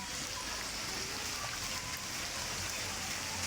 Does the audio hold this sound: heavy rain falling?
yes